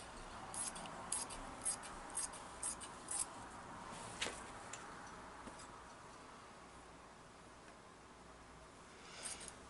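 Scissors cut through folded flannel fabric, giving a series of faint, soft snipping clicks close by in the first few seconds, then near-silence.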